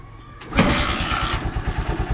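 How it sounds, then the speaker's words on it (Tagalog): A Honda Supremo motorcycle with a hard-starting problem is started without the choke: a brief starter whir, then the engine catches and settles into a close, steady, pulsing idle. "umaandar siya kahit hindi natin ginagamit itong choke"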